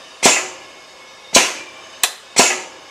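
A boat transom cracks under a hydraulic press loaded to about 14 tons: four sharp, loud snapping cracks, each followed by a short ringing decay, spaced irregularly with quiet between them and no talk.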